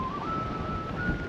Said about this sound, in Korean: 이게 음악 소리가 아니고 아마 쇠랑 쇠 사이로 바람 들어가는 소리 같아.